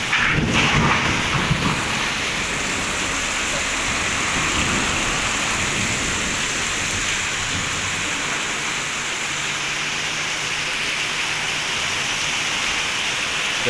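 Heavy rainstorm with wind and thunder, recorded in Bogor, with asbestos roof sheets nearby; a dense, loud, steady roar of pouring rain fills the whole stretch, with a heavier rumble near the start and no voices.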